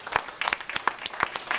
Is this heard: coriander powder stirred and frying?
no